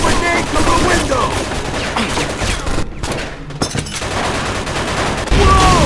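Mafia II video game gunfight with heavy machine gun fire, dense rapid bursts of shots rattling almost without pause, loud and close, with a brief exclaiming voice over the shooting.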